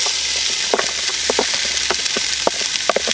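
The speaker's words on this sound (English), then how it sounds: "First thing we're going to do is saute the onions" Onions sauté in a hot Dutch oven, giving a bright, steady sizzle with frequent small pops and crackles scattered across the whole stretch, close and fairly loud, with no talking.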